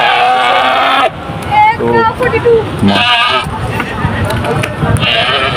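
Goats bleat repeatedly at a busy Eid livestock market in Shahpur, loud nearby calls rising over steady crowd chatter and voices, with a few overlapping animal cries.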